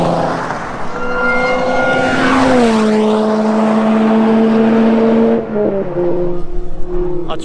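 Lotus Elise fitted with a supercharger on a race track, its loud, high supercharger whine rising with the engine, then holding steady at full throttle before dropping off as revs fall; very close and alone.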